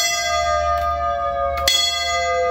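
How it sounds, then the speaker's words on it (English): A bright metallic fire engine bell rings with a long, sustained resonance, struck again partway through, clear and close with no voices. "Or maybe you want to ring the bell."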